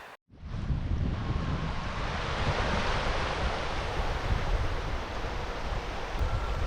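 Continuous roar of sea surf rolling onto Kanaichatta beach, an unspoiled shoreline lined with casuarina trees, with the water churned and muddy; steady, loud and close with wind buffeting the microphone throughout, no voices.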